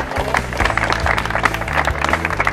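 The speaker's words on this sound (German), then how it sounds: "das verdient einen extra Applaus" A crowd applauds steadily at a sports award ceremony, a dense patter of many hands clapping at close range for a couple of seconds.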